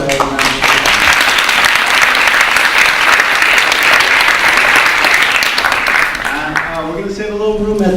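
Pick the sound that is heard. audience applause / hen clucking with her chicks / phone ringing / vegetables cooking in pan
audience applause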